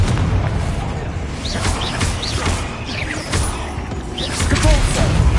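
Booming explosions from the Confringo blasting curse in Hogwarts Legacy, part of a dense, loud battle din with crashes and pops running throughout.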